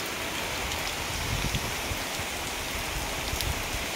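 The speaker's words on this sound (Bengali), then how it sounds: "এখনো পর্যন্ত একটু বৃষ্টি থামে নাই।" Heavy rain pours outside during a cyclone, a dense, constant hiss of drops pattering on surfaces close by, with no voices.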